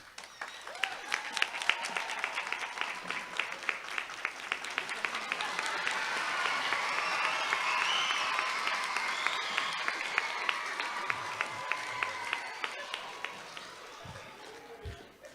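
Applause for singers from an audience at a school renaming ceremony, steady rapid clapping that swells in the middle and then thins out, with faint crowd voices underneath.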